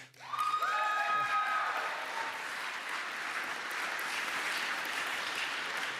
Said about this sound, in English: applause for everyone, please